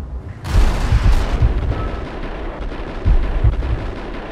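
Heavy gunfire booms in rapid bursts in the video game Max Payne, loud and dense, with deep rumbling blasts layered over a continuous roar of shooting.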